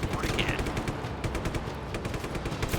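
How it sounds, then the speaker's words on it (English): Rapid bursts of gunfire in the open-world game Just Cause 3, a dense rattling fusillade filling the whole moment at close range, with a voice speaking under it. "I get the honor of shooting him anyway."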